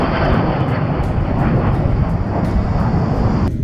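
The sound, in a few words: airplane taking off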